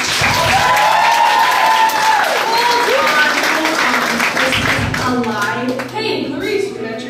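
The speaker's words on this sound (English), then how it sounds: "Everyone, a round of applause for Perseus Jackson" Audience applause at a school stage production of The Lightning Thief: The Percy Jackson Musical, a dense continuous wash of clapping from a crowd, with voices and cheering mixed in and the applause slowly thinning toward the end.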